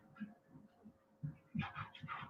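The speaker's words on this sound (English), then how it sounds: "I'm gonna get the dog to be quiet" A dog at home near the porch while the mailman is outside, giving soft muffled huffs and low whimpering pants, a few brief bursts that grow slightly louder toward the end, close and fairly quiet.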